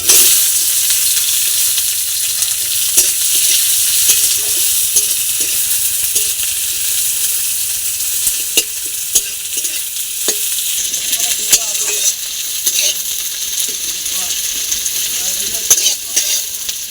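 Chopped onion with chilli and bay leaf sizzles steadily in a pan for a fish-egg and potato curry, a loud continuous frying hiss broken by occasional clinks and scrapes of stirring.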